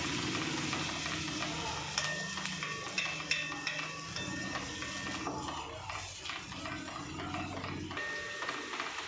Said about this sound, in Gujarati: એને આપણે સારી રીતે સાંતળી લેવાની છે। તેલ બહુ જ ગરમ ના હોવું જોઈએ,